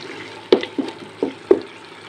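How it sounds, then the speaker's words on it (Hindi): Starchy water drained off cooked mixed vegetables, heard as four separate splashy drips and pours about a quarter to half second apart, close and moderately loud with no talking. "इसमें से हम ये पानी निकालेंगे।"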